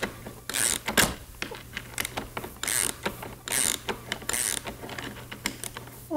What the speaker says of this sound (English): your crescent wrench to remove the nut and the bolt on the big wheel